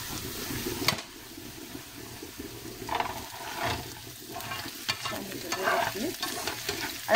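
Onions frying and sizzling in a pan for Swedish meatballs, stirred with a utensil that scrapes and knocks against the pan every few seconds under a steady crackle; no one speaks.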